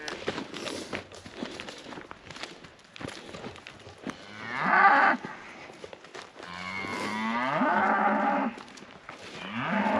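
Several small cattle moo repeatedly, loud and close, with long drawn calls mid-clip, over shuffling hooves as a herd walks along a farm track.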